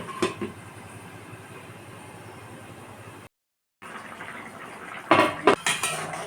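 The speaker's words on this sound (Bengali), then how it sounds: "একটু নেড়ে চেড়ে জল দিয়ে সিদ্ধ করে নেব ভালো করে মাংসটাকে সিদ্ধ করে নেব ঢেকে" Mutton stirred in a cooking pot, with metallic scraping and clinks of a utensil against the pot, clattering louder near the end after a brief silent gap.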